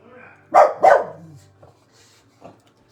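A young dog lets out two sharp yips close by, followed by a few softer whimpering noises and a faint low sound.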